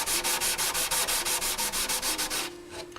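Steady back-and-forth sanding strokes on Suzuki GSX-R 1000 track motorcycle bodywork being prepped for paint, a rapid even rhythm of close, loud rubbing that stops near the end, leaving a quieter hum.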